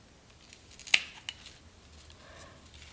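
Scissors or shears snip through a Monstera adansonii stem between two nodes, one sharp close crisp cut followed by a smaller click, then quiet rustling.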